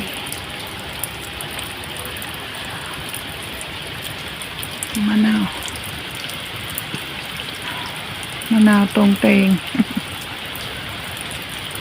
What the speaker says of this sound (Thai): ฝนแรกของปีเล